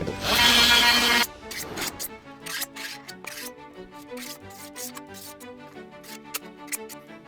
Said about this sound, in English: I need to sand it down, clean it.